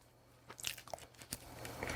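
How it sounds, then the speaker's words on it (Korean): Someone chews food slowly with a few soft, separate crunches and bites spread over a couple of seconds. The sounds are close and quiet, with faint background noise between them. "오늘도 씹고 또 씹고 씹고 오래 씹는 습관"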